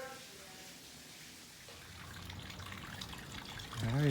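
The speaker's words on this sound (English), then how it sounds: "Look at all that water coming out, y'all." Water gushes from a hose while a sump pump drains, a steady broadband rush that grows louder near the end, with a voice briefly heard at the close.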